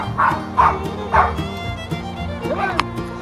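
A young puppy, a Westie and Poodle cross, gives several short yips and bow-wow barks in a row, near and fairly loud. A person talks softly between the yelps, and a quieter whimper comes near the end.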